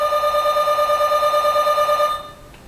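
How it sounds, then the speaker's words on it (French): Phone ringtone going off, a loud electronic ring with a rapid warbling pulse that holds steadily for about two seconds, then cuts off abruptly into near silence. "Désolée pour cette sonnerie, hein."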